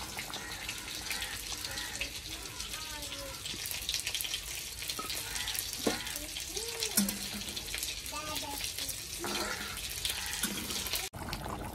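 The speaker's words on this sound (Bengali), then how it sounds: "এই যে মাছের ঝোলটা দেখো ফুটছে।" Fish curry in a pot boils with a steady wash of bubbling and hissing liquid, close and continuous, with faint voices and clatter in the background.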